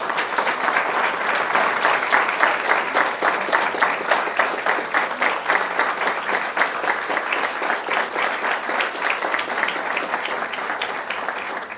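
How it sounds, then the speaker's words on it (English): Audience applause at a county school board meeting, loud continuous clapping from many people with dense rapid claps sustained for the whole stretch, no talk over it. "they need to be applauded and recognized for their efforts."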